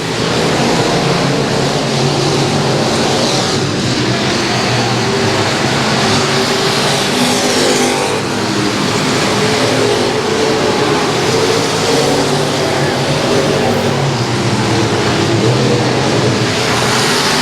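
Race cars roaring around the oval at Battleground Speedway, a steady dense engine drone with passing cars blending together, loud and continuous with no talk.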